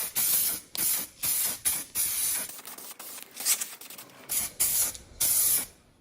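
Red spray paint hisses from an aerosol can in a series of short bursts and one longer pass along the edge of a motorcycle side cover, each burst cutting off sharply between sprays.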